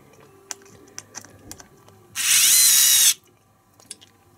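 An INGCO CSDL10403 cordless screwdriver whirs loudly for about a second while driving a screw into wood without a pre-drilled hole, set among scattered light clicks and taps before and after.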